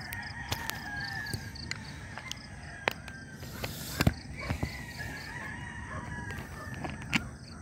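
Roosters crow in the distance over faint background ambience, with several calls and a few sharp nearby knocks.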